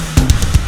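A mixed rock drum kit with no high-end EQ on the drum bus hits a few quick kick and snare strokes, punchy and dull-topped, in a very short loud burst.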